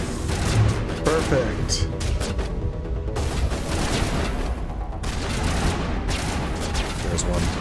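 Sustained gunfire and combat noise from the Mass Effect video game fill the whole stretch, dense and steady, with a voice speaking briefly over it.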